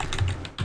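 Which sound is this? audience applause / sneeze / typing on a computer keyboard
typing on a computer keyboard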